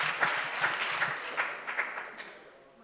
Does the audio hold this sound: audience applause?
yes